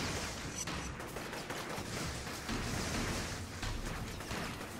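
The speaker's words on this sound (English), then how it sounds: "Make them try to shoot up here so they won't hurt anyone down there" Enemy gunfire from the inFamous video game, set near the sewers, rolls on as a steady, dense barrage of shots with no clear breaks, fairly loud and close, with no voices over it.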